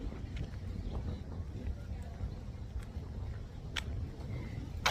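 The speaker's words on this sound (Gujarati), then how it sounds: "આજે વિંડી છે, આખો દિવસ પવન પુષ્કળ આવી રહ્યો છે." Strong wind blows outdoors at Wascana Lake in Regina, buffeting the microphone with a low steady roar, while a voice talks over it.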